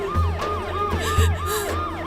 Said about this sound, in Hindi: चलो, एम्बुलेंस आ गई है।